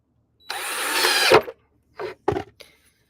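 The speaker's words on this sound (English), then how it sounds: "Drill this one on in." Cordless power drill driving a screw into a wooden raised garden box, one whirring burst of about a second followed by two or three short blips of the motor, close and clear with no talk.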